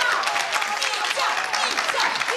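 Studio audience applauding on a televised family-feud style game show as contestants are called up, a dense steady clatter of many hands that stays loud and unbroken throughout.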